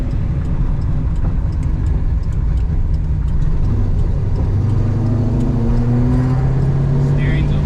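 A 1970 Dodge Charger restomod with a stroked 383 V8 and 4-speed drives along, its deep engine rumble steady and loud from inside the cabin, with a rising tone near the end and voices heard faintly.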